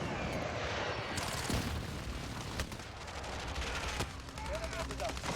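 Dense, rapid gunfire in a Call of Duty multiplayer match crackles steadily throughout, sharp shots layered over a constant battlefield rumble, with faint voices mixed in.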